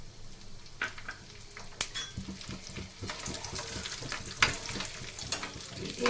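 Raisins fry in butter over a low flame, a soft continuous sizzle with light stirring and occasional metal clinks of a spoon against the pan, close and fairly quiet.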